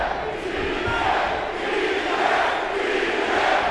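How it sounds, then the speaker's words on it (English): A large arena crowd at a UFC fight roars and cheers continuously, a dense loud wash of voices with brief swells. "The crowd loves the prodigy."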